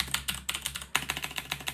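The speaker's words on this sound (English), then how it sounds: "forgive my very clacky keyboard" Rapid typing on a clacky computer keyboard while writing Python code in Maya's script editor: a dense, fairly close stream of sharp key clicks in an uneven rhythm, one louder strike near the middle, no talking.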